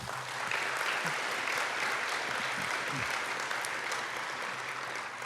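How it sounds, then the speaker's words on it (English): A large audience gives a sustained round of applause at an internship draft day event, a dense steady roar of many hands clapping that holds at an even level throughout, with a few cheers mixed in. "Let's give them a big, enthusiastic round of applause."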